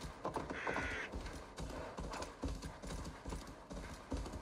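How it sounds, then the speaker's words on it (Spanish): Horse hooves galloping in Assassin's Creed Valhalla, a steady rhythmic clip-clop close up and fairly loud, with game sounds around it and a brief bird-like call early on. "Coger este caballo."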